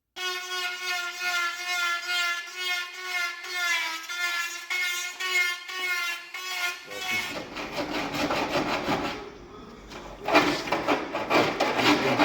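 A Dremel whines with a steady high-pitched tone while tidying a hole cut in the wing of a Land Rover Freelander 2 for a snorkel. A coarse, scraping rasp of filing on the panel then takes over, close and fairly loud.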